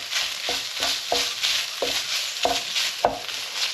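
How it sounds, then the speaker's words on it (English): Tomato puree being stirred into a pan of enchilada filling, a steady sizzle with several distinct scraping strokes of the spoon at irregular intervals, close and moderately loud. "Give that a quick stir in"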